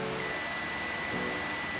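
A ZOYI ZT102A multimeter's continuity buzzer sounds one steady, unbroken electronic tone that runs through the whole stretch, fairly quiet over a soft background hiss.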